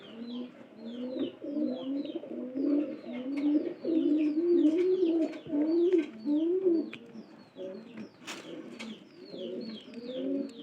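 Pigeons coo inside a loft, several birds producing overlapping low throaty rolling coos in near-continuous waves, close by, with occasional faint chirps and small rustles.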